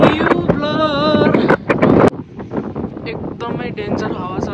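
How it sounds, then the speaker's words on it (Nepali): Strong wind buffets the microphone on a ferry ride to the Isle of Wight, a loud, rough roar throughout, with someone talking over it in the first half. "एकदमै डेन्जर हावा चलेछ"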